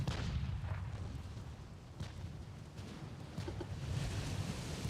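Torpedo blast on a warship's deck in the naval battle game Ultimate Admiral: Dreadnoughts, a continuous rumbling roar of distant explosions and gunfire with a few sharper cracks, no voices.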